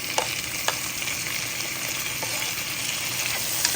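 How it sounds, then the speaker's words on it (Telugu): Onions fry in a pan for a goat trotters shorba, a steady close sizzle with faint crackles and a few light stirring taps, no voices. "ఈ లోపల మనకి ఆనియన్స్ వేగుతూ ఉంటాయి"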